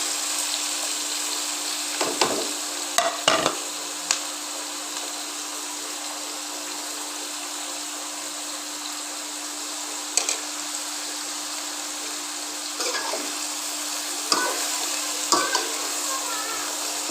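Chopped onion, tomato and green chili sizzling in hot oil, a constant loud hiss with a few sharp clinks and stirs scattered through, no talking.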